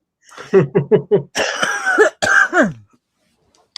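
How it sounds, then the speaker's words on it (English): A burst of several quick, sharp coughs in a row from choking on something swallowed the wrong way, followed by a couple of longer, raspier throat-clearing coughs, then silence. "Now I'm gonna cough because it went down the wrong pipe."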